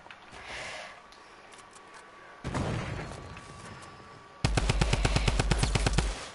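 Automatic gunfire in a video game, a rapid, loud, even burst of many shots near the end, preceded by rougher noisy bursts and background game ambience.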